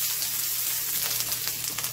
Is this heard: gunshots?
no